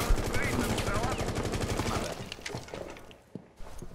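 Rapid gunfire bursts in Rainbow Six as a player shoots a camera, loud repeated shots in the first half that taper off into scattered quieter hits and background noise.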